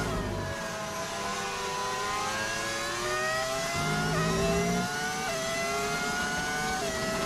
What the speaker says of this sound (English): Did you add a mod to get the V10 sound?